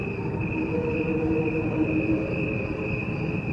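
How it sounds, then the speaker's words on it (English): A steady, dense wash of chirping made from slowed-down crickets in a music track, a continuous droning chorus with a sustained high tone, even in loudness throughout and with no voices. "a track that he said was made exclusively from slowed down crickets"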